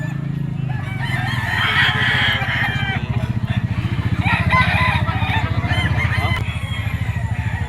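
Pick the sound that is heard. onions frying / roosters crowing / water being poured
roosters crowing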